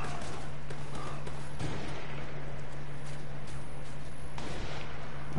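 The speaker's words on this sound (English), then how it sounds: "Squad, we hear gunfire." Rapid video game gunfire in a squad-based shooter, a dense stream of cracking shots and distant booms rolling continuously under a steady low hum, with no voices.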